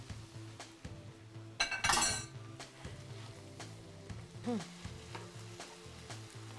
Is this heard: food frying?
yes